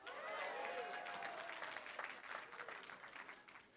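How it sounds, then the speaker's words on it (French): A church congregation claps in a dense burst of applause that starts strong and slowly thins toward scattered claps, with voices and cheers mixed in. "Et ça mérite plus d'applaudissements encore."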